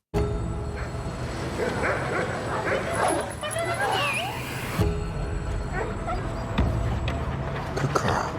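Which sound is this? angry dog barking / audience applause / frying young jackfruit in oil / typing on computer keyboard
angry dog barking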